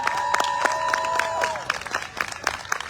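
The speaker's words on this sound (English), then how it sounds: "Give her a big round of applause." A crowd at a city hall event for Lemonade Day breaks into applause and cheering, a steady wash of clapping with a sustained whistle-like tone over it that fades into scattered claps.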